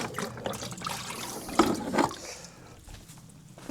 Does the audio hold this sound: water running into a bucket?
yes